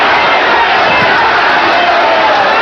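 A boxing crowd at a WBA junior lightweight title fight roars in a loud, steady wash of cheering after an uppercut, sustained throughout without letup.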